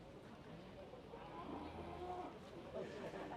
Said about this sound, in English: These cattle are treated very well.